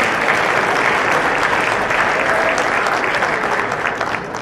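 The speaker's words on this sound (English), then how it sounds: "So let's give him a big applause." Sustained applause from a convention audience honoring a sponsor, dense and steady clapping from a large crowd throughout, fairly loud and close, with no talk over it.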